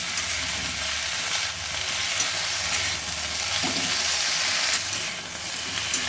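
Red amaranth greens and red and white potatoes with fish stir-fried in a little oil, giving a steady, close, loud sizzle with faint stirring scrapes throughout and no talking.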